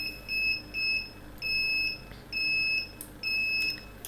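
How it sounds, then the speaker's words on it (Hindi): HT10 incubator controller alarm beeping: a series of five or six short, high electronic beeps at a steady rhythm, close and clear over a quiet background. "अब जब ये अलार्म कर रहा है"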